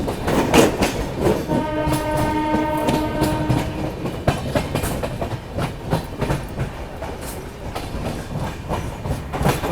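The Poorvottar Sampark Kranti express train runs on the Delhi to Guwahati line with loud rhythmic clickety-clack of wheels over rail joints, a horn sounding for a few seconds in the middle.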